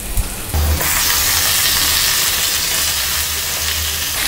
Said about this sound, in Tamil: இப்போ வறுத்ததுக்கப்புறம் நம்ம சிக்கன் ஆட் பண்ணிக்கலாம்.